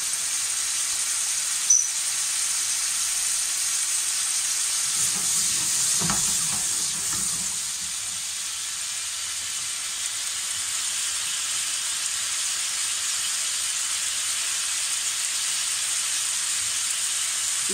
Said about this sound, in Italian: Lasciamo soffriggere.